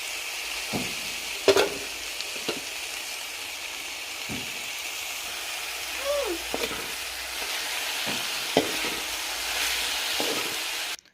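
Potato and drumstick flowers fry in a pan with a soft steady sizzle, while a spoon stirs and scrapes in several sharp clinks and knocks, close up and without talk.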